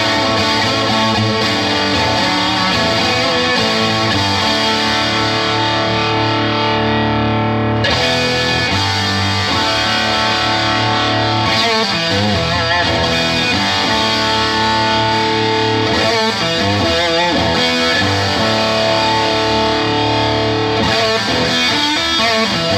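A heavily distorted electric guitar plays loud, sustained chords and riffs through a modded amp in metal mode with stage two on, a thick, saturated tone filling the whole stretch without pause.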